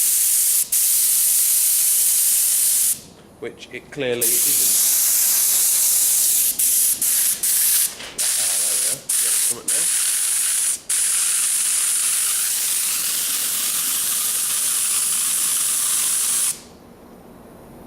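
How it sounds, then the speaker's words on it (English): Loud, steady hiss of a compressed-air spray gun spraying oil on a classic Range Rover, cut by a few short pauses, with brief speech during a gap. "hopefully this should spray oil out"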